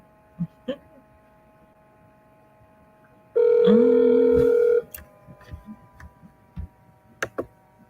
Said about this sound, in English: Mr. Buchanan's not answering the phone